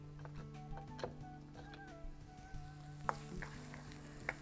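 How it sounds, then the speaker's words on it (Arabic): Hot oil sizzles in a pan as onion and garlic begin frying for Indian-style liver, a soft continuous crackle with scattered light pops and ticks, fairly quiet and with no voices. "الزيت زمانه سخن حلو قوي، ده الصوت اللي انا عايزاه"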